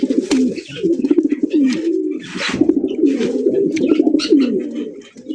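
Lahori pigeons coo in close, continuous throaty rolling phrases that overlap one another, with scattered rustling and brief clatter in the background.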